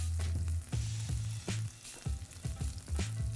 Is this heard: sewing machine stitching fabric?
no